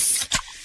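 A freshly opened Pepsi gives a sharp, close fizzing hiss and a quick pop of released gas, then a faint lingering fizz, all within a fraction of a second.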